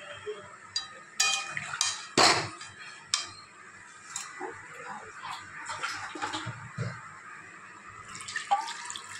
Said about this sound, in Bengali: আর এই যে এখন জল দিয়ে দেবো